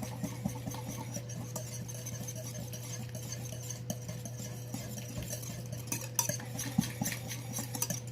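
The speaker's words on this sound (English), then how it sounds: "Let's do a little whisk." A whisk clicks and scrapes softly against a bowl as fresh and wet ranch dressing ingredients are stirred together, a faint steady rattle over a low background hum.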